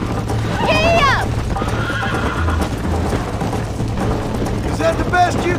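A horse in the Red Dead Redemption video game neighs and whinnies loudly over rapid galloping hoofbeats, with game music and voices mixed in throughout.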